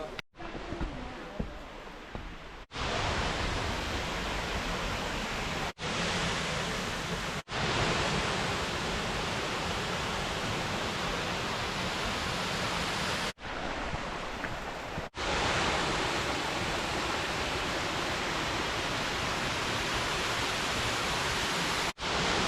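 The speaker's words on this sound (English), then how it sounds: "let's go see another amazing Michigan waterfall" A Michigan waterfall in October roars in a steady, dense broadband rush, loud and close, continuous apart from a few abrupt cuts, with no voices.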